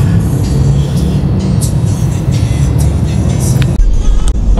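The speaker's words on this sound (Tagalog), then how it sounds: "Traffic." Loud, close road traffic with cars driving past in a continuous rumbling wash, with brief clunks and hiss as vehicles move through city streets.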